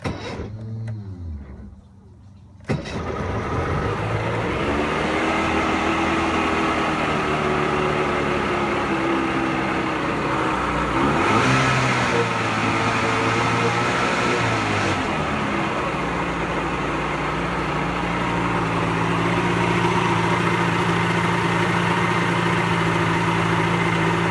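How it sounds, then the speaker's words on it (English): A Pelin Nomad's starter motor cranks briefly, then the engine catches and settles into a smooth, steady fast idle that runs on, close and continuous. "move the old lever forward, and we should be a bit of fast idle then, give it a crank"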